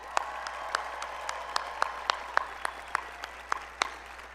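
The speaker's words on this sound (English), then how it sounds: "members of the graduating class of 2021 another round of applause." Scattered, fairly faint hand claps at a 2021 undergraduate commencement ceremony honoring the graduating class, sounding like a sparse, uneven round of applause in a large hall with no talking over it.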